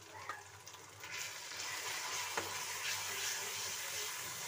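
A spice masala of black pepper, coriander and cumin powders fries in a pan for a cauliflower, potato and pea sabzi, producing a soft, steady sizzle that swells after the first second and holds quiet and even.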